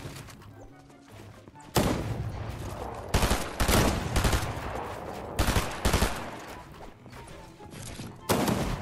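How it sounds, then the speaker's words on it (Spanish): Gunfire in the battle-royale video game Fortnite, with loud bursts of rapid shots in repeated volleys and short pauses between them, and a player's voice faintly underneath. "Disparan de arriba"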